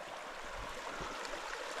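A fast-flowing freshwater stream in Lofoten, running toward a salty lake, makes a steady close rushing and gurgling wash that holds even throughout with no voices.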